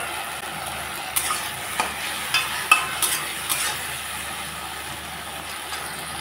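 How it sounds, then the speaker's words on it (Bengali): Onions fry in a pan as mustard paste and green chilli paste go in, with a soft steady sizzle broken by several sharp scraping stirs of a spatula. "পেঁয়াজ ভাজা হয়ে গেছে, এখন দিয়ে দিচ্ছি সরষা বাটা আর কাঁচা লঙ্কা বাটা"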